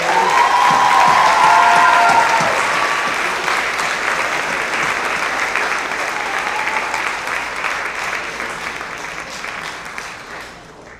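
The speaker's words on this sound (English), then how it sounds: "Can we have a round of applause for Ms." An audience at a high school academic awards night claps for a math teacher retiring after 25 years, giving loud sustained applause with a few cheers that slowly tapers over about eleven seconds.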